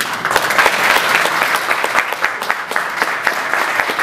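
A loud, continuous round of clapping from guests fills a birthday celebration for Francisco Tapia, with individual hand claps standing out sharply within the dense, close-up crowd applause.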